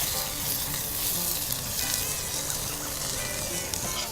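Coarse salsa with lime juice cooks in a pan outdoors, giving a loud, constant sizzle and frying crackle close by, with faint stirring and no speech.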